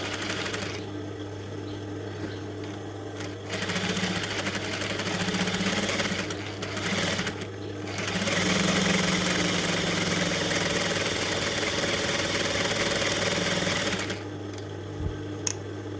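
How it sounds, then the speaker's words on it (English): A sewing machine stitches fabric for a smocking dress, running in long continuous stretches with a steady hum and brief pauses between them, close and fairly loud. "and then you start sewing"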